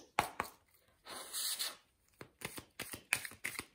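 Oracle cards are shuffled by hand in short, crisp riffling bursts separated by brief pauses, with one longer sliding shuffle in the middle, close up and with no talking.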